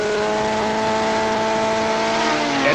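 A racing motorcycle engine at Laguna Seca in 1979 holds a steady, loud high-pitched whine under sustained throttle, heard from the bike itself with continuous wind noise and no talking.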